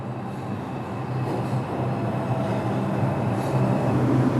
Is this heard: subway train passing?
yes